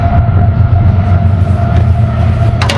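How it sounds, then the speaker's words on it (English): A passing train produces a loud, continuous low rumble with steady mechanical roar throughout, close by and unbroken, with no voices over it. "Train's coming through."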